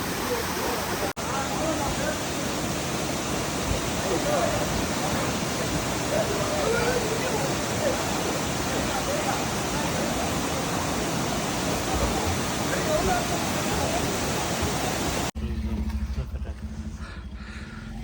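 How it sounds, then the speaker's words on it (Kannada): Vibhuti Falls in Karnataka roars steadily, a dense broadband rush of falling water that stays loud and constant, cutting off abruptly near the end. "ಯುಬುತಿ ಜಲಪಾತ ಅಂತ, ಯುಬುತಿ ಫಾಲ್ಸ್."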